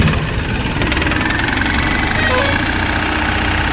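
Mahindra Maxximo diesel light truck engine idling with a steady close rumble and faint knocking vibration throughout, loud and unbroken, with no clear start-up moment heard.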